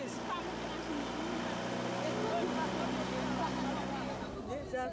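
A motorboat engine runs steadily with a continuous low droning hum throughout, while indistinct voices murmur and babble over it.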